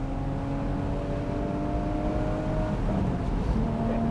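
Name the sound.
Porsche 981 Boxster GTS engine revving in second gear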